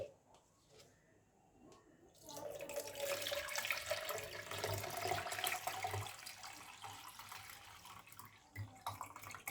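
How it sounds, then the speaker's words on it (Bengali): Sugarcane jaggery sharbat poured through a strainer, a steady close liquid splash and trickle starting after a quiet opening and running continuously to the end. "শরবতটাকে ছেঁকে নেব।"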